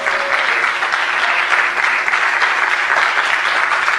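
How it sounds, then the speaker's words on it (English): Audience applause inside a tent at a gathering, a dense, steady clapping from many hands, loud and sustained without pause. "you should give yourselves a round of applause"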